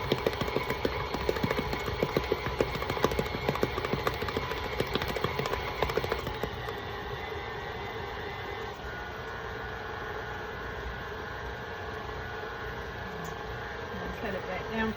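Electric mixer beating buttercream frosting at a raised speed, a loud continuous motor whir with rattling beater noise that drops to a smoother, quieter hum partway through.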